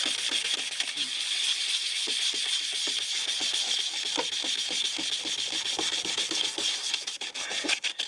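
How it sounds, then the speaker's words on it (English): Sandpaper rubbed by hand over a yellowed surface, a close, continuous scratchy rasp made of repeated back-and-forth strokes that carries on steadily with no talking. "So what I'm going to do is actually start with this sandpaper."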